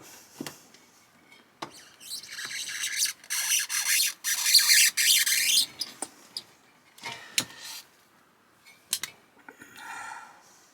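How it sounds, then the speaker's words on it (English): A Stanley knife with a fresh sharp blade cuts a hole through panel material in a Renault Trafic camper van. Close scraping and slicing strokes come in bursts with brief taps and pauses between them. "Now using my Stanley blade with a nice new sharp blade, cut that out."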